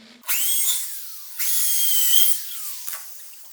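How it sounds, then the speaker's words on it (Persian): A power drill bores holes into a wall for radiator mounting brackets, running in two close, loud whining bursts with rising pitch, followed by a shorter third burst. "حالا با استفاده از دریل دوباره سوراخ‌کاریتون رو انجام میدید"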